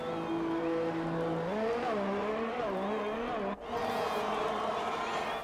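F1 2020 video game race car pulling out of the pits back onto the track, its engine droning and rising in pitch through the gears, with a short drop as it shifts.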